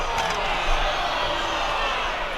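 An indoor crowd at a Hope College versus Albion College NCAA Division III men's basketball game lets out a dense, sustained roar of disbelief after a foul call, with a commentator talking over it.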